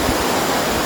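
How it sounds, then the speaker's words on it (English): The River Rhondda in full flow beneath Ystrad Rhondda, a steady, dense broadband rush of water filling the whole clip with no voices. "The water is in full flow."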